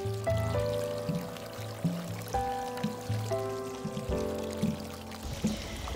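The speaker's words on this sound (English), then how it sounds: "water through the tube to the bottom of the pot" Water pours and gurgles through a watering tube into the bottom of a garden pot in a series of uneven glugs, the bubbling tones shifting as it fills, close up with no talking.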